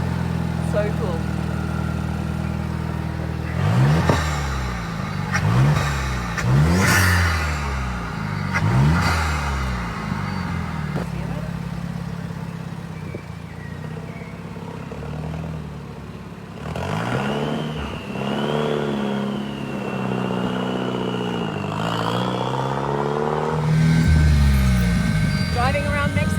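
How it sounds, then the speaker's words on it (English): A Vuhl supercar with a manual gearbox drives through Mexico City streets, its engine revving up and down in repeated surges, loud and close, with a steady rumble between the bursts. "Driving around Mexico City in the Vool, the supercar here."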